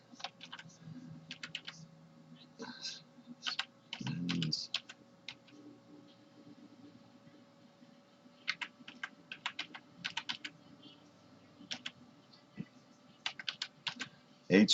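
Fingers type a web address on a computer keyboard, close by, in quick bursts of crisp keystrokes with short pauses between them over a faint steady hum.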